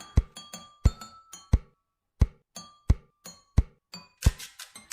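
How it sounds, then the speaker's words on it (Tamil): Clinking metal and glassy knocks ring out close and loud around a pot of fish curry as a lid is handled and set down, a string of sharp separate taps with short bright rings and a cluster at the end. "மீனை போட்டுட்டு லைட்டாக கிளறி விட்டுட்டு நம்ம மூடி வச்சிடலாம்."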